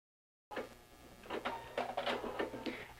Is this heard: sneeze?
no